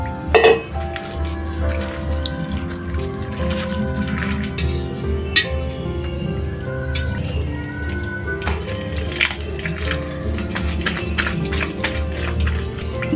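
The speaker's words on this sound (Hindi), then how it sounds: "थोड़ा थोड़ा पानी डाल के इसे अच्छे से मिलाना है।" Maize flour dough for parathas is mixed by hand with water added little by little, giving soft wet squishing and sticky kneading noises throughout, close and steady.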